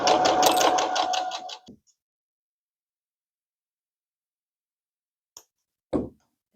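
Sewing machine stitching a seam on an EPP Christmas stocking, a quick run of closely spaced stitches for under two seconds, then near silence with a couple of faint clicks.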